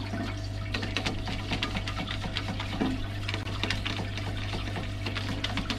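Steady spray of water rinsing a Range Rover L405 rear brake caliper, hissing and splashing continuously, close by, with a low hum underneath and no talking.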